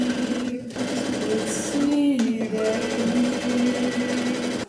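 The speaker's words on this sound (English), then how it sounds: "I'm so over this stupid sewing machine" A sewing machine runs in short bursts while a dress is being made, a steady mechanical whir broken by brief stops and restarts. Someone speaks over it in a frustrated voice.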